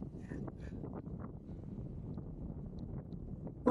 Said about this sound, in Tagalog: Grabe talaga yung hangin